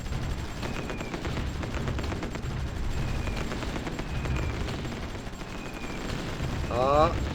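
Gunfire during a brutal siege in the strategy game Supreme Ruler Ultimate: a steady, dense crackle of rapid shots and distant bursts that rolls on without pause, swelling slightly near the end.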